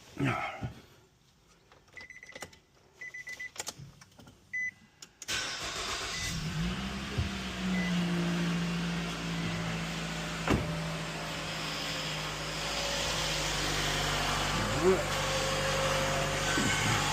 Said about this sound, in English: Now we'll go ahead and turn the vehicle on and verify there's no leaks.